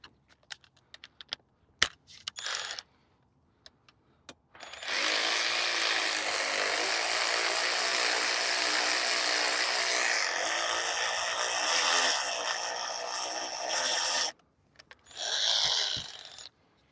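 A power tool loosens the timing belt tensioner bolt on a 2006 Subaru STI, running in one long buzzing burst of about ten seconds plus a short final burst, close and loud, with brief clicks before.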